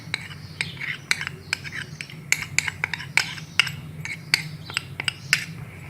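Chicken being mixed by hand or spoon with oil and ketchup in a bowl, giving wet squelching stirs punctuated by repeated sharp clinks against the dish, close and steady with no talk.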